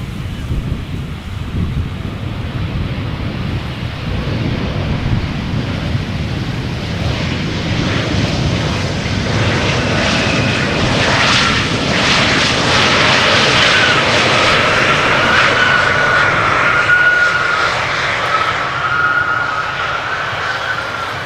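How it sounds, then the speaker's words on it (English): A KLM airliner lands at Amsterdam Schiphol Airport with a loud, sustained jet engine roar that swells into a broad rushing whoosh and holds for about twenty seconds, with wind buffeting the microphone. "you see the nose wheel lowering already"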